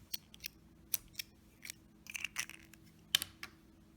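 Scissors snip crochet yarn up close in a quiet room, giving a series of about eight short, crisp metallic clips spaced unevenly over a few seconds, with no talking.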